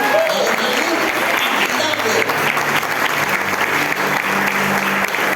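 A church congregation at a resurrection celebration service applauds loudly and continuously, dense clapping filling the room with murmurs from the crowd underneath.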